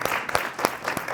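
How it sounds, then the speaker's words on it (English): Audience applause for panelists at a community coalition meeting, a short burst of several sharp claps. "let's give our panelists a round of applause"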